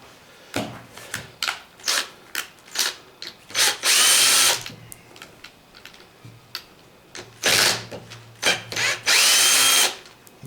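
A power tool removes bolts from a Tremec T5 transmission, firing in a string of short, sharp whirring bursts, then longer sustained runs, close and loud, with quiet pauses between.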